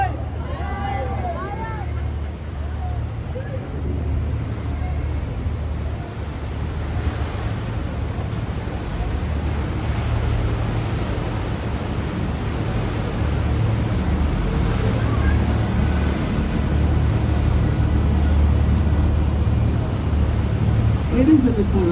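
A Thames river cruise boat in London passes under the Golden Jubilee walkway, giving a steady low engine rumble mixed with water wash and wind noise. A few faint voices can be heard in the background.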